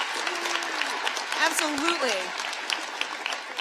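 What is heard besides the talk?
audience clapping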